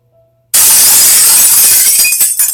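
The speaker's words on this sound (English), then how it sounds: "I heard the sound of glass shattering from a few rooms over." A glass window shattering a few rooms away in a house, a sudden loud crash after near silence, followed by a dense spray of tinkling shards that tapers off over about two seconds.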